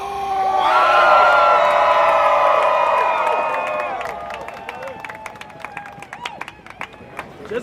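Rally crowd roaring with cheers and whoops that swell loudly, then thin into scattered clapping and sharp individual claps toward the end.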